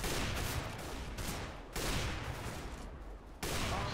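Gunfire in a Counter-Strike: Global Offensive deathmatch, bursts of rapid shots in quick succession with brief gaps between them, loud and crackling with a heavy low-end thump.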